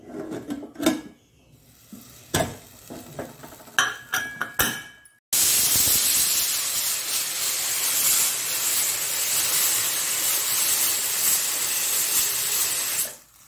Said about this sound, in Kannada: 5 ವಿಸಿಲ್ಗಳಾಯಿತು.